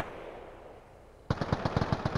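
Suppressed gunfire in the video game Arma Reforger comes as a quick burst of about ten evenly spaced, muffled shots. It follows a second of quiet background hiss.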